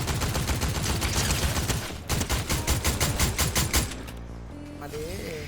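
Gunfire in the video game Fortnite, dense rapid automatic bursts fired in a steady rhythm, loud and close, stopping near the end as other game sounds take over.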